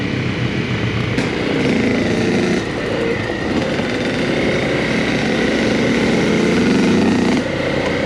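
A Kawasaki KLX 140G dirt bike engine on a trail ride in Wayne National Forest drones steadily and fairly loud throughout, its pitch rising and dipping with throttle changes, with wind and rolling noise mixed in and no talking.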